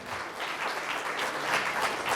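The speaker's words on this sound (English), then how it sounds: "Give all of these teachers a round of applause," Steady applause from an audience at a high school student Emmy awards ceremony, a dense, even wash of clapping heard on its own for a couple of seconds.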